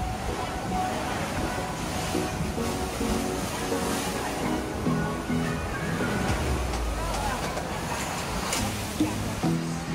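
Ocean surf rolls in a steady broad wash beside a seaside restaurant at Panglao, Bohol, with wind noise and faint background sounds of people.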